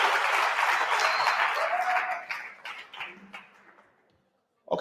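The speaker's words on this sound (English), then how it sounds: "Give her a round of applause" Audience applause at a business workshop in Mamelodi, a dense burst of clapping from a room full of people that thins out and fades away to silence.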